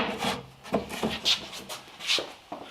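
Two plywood layers forming a rebated cabinet lid for a campervan are fitted together, giving soft wooden rubbing and scraping contacts with a few sharper knocks, close and fairly quiet, with no talking.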